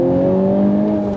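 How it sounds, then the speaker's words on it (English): A 2020 Honda Civic Type R engine with active sound control revs steadily from inside the cabin, a smooth sustained hum holding a nearly constant pitch for about a second. "They've also added the active sound control, which you're going to be hearing."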